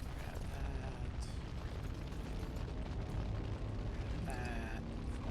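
A force bomb spell detonates in Dragon Age: Origins, a heavy, sustained rumbling blast with dense low-end roar across the clip and a brief bright crackle near the end, set against ongoing game ambience.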